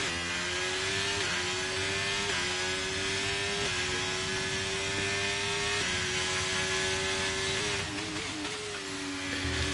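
Ferrari race car engine heard on board in a racing video game, a loud, close, continuous buzzing whine that climbs through each gear and drops sharply at every shift, with several upshifts and a quick downshift near the end.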